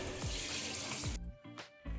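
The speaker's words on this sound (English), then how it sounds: "Wet the bathtub surface with water." Water runs from a tap to wet an acrylic bathtub surface, a close, bright splashing rush that cuts off and briefly restarts in short bursts near the end.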